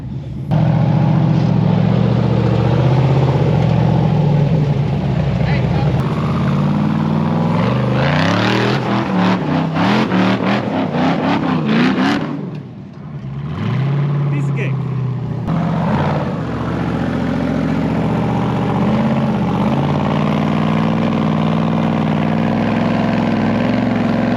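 Rock bouncer off-road buggy engines at Sand Hollow rev and idle loudly and close for the whole stretch, with throttle bursts in the middle, a brief dip, then a steady rumble again.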